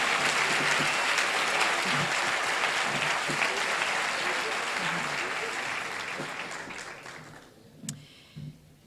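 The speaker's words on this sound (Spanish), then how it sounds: "enhorabuena y un aplauso" Students, families and teachers fill a hall with applause at a high school graduation ceremony, a thick, sustained round of clapping that tapers off near the end, leaving a few scattered claps and faint murmurs.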